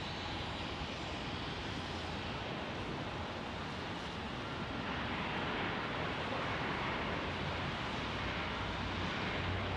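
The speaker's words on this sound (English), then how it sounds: "Here's an Embraer E175 inbound" A steady broadband roar of an inbound Embraer E175 jet, heard at night near a Salt Lake City airfield, continuous and fairly loud for the whole stretch with no talk over it.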